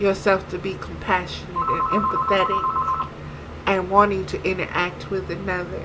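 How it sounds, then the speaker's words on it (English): A telephone rings with a steady electronic trill lasting about a second and a half, heard underneath continuous calm speech from a nearby woman. "And that is my phone"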